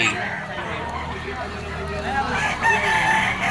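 Rooster crowing among yellow-legged gamefowl at the Malabon pet market, a couple of bright crows rising over a busy background of crowd chatter and market noise, fairly close and loud.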